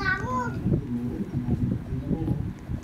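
A large cat gives a short meow at the start, and a person keeps speaking nearby after it.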